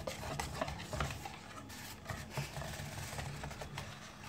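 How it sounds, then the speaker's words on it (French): Cake batter being mixed in a bowl: a soft, continuous stirring with faint scraping and light clinks of the utensil against the side, quiet and steady. "On va mélanger encore un peu."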